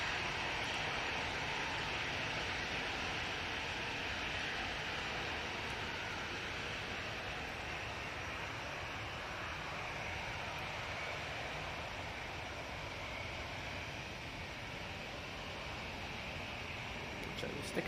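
An EasyJet Airbus A320 jet aircraft makes a sustained, fairly loud engine roar with a broad whine and a low rumble that stays steady throughout.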